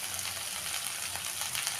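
Okra and potatoes frying in a pan with a freshly ground roasted spice mix, a dense, even hiss of sizzling heard close and steady throughout.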